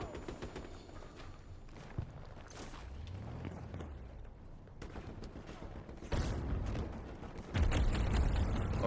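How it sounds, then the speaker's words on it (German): Battlefield 2042 Conquest match on PS5, with scattered gunshots, thuds and rolling explosions that swell louder toward the end, one sharp blast near the start and heavier booms in the last seconds. "bei den ganzen Explosionen sehe ich gerade gar nichts"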